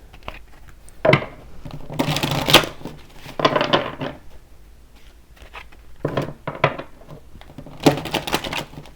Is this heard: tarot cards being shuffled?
yes